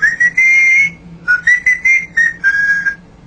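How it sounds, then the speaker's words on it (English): A pet parrot whistles a bright tune, likely When the Saints Go Marching In, in several short phrases with brief pauses, clear and close with no talking. "he likes to whistle when the saints go marching"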